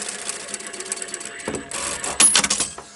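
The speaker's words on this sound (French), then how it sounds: "je vais faire une couture à 1/4 et je ne vais pas épingler" Sewing machine stitching bias binding onto mesh netting for a zippered pouch, a close, steady mechanical hum that swells louder in bursts toward the end, with no talking.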